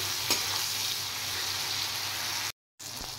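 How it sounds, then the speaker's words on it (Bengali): Fried potato pieces sauté with melted tomato in a pan, a close, even sizzle with stirring and a short break near the end. "এবার আলুটা দেওয়ার পর একটু সাঁতলে নেব।"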